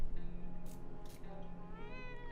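A cat meows in the video game 60 Seconds Reatomized, with a couple of drawn-out, close meows rising over a low, steady game background hum.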